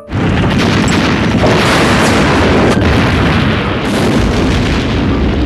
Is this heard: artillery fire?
yes